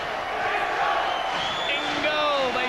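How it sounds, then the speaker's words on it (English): A boxing crowd in Hull chants and shouts for local fighter Paul Ingle during an IBF featherweight title bout against Manuel Medina, a dense, continuous roar of voices filling the arena. "Ingle, they shout the crowd."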